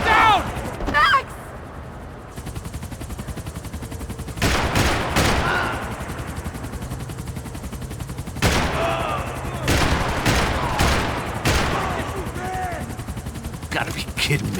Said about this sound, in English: Shoot him down!